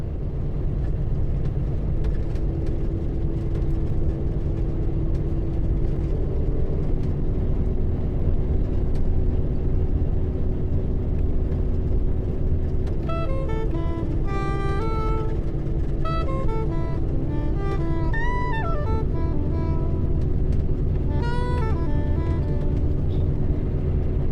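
A truck cruising down the road near Reno, its engine and tire noise forming a steady, loud rumble throughout, with faint tonal whines and squeaks rising over the drone in the second half.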